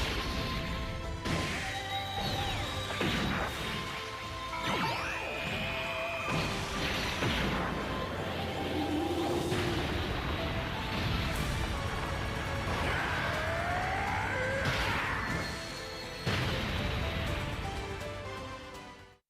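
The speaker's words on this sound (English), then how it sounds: "this is the EX attack. Dragon Fang Shout." The Dragon Fang Shout EX attack from a Dragon Ball video game plays out as a continuous, loud barrage of smashes, crashes and whooshing energy blasts with layered effects, no speech heard.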